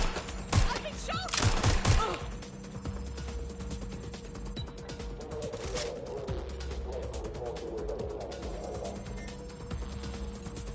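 Gunfire from the Watch Dogs game: a rapid burst of close, sharp shots in the first two seconds, then scattered faint clicks and a low mechanical hum with background chatter.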